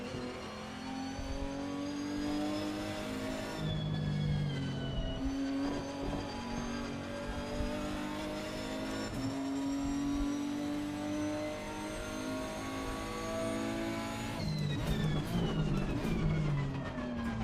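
A race car engine drones loudly through a final lap in the Assetto Corsa Competizione racing game, holding a steady high-revving tone with rising and falling gear pitches and a shift near the end, with no talking.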